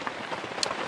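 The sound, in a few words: heavy rain falling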